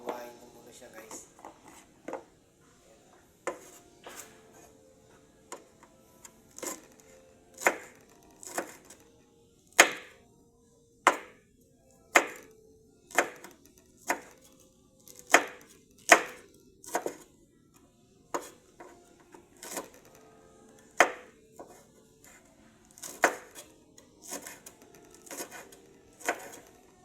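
Knife slicing ginger and chili on a board: a long run of sharp, distinct chops, some in quick pairs and some spaced out, close and fairly loud, with a quiet room behind.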